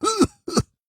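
A man coughs hard, two short harsh bursts close by.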